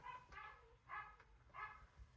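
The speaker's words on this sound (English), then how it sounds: "There goes my dog." A small dog barks three times indoors, short, evenly spaced yaps at moderate distance, fairly faint and with no talking over them.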